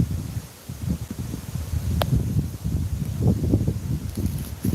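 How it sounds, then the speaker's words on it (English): Low, steady wind rumbles and buffets outdoors, with faint rustling and a single short click partway through; no voices. "it's windy again"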